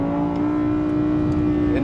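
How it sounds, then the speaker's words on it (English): Continuous, loud V10 exhaust wail from an Audi R8 V10 Plus, a sustained high-pitched engine tone held steady, with a slight pitch shift at the end. "it has like an F1 sound to it. That is my favorite sound of an exhaust note."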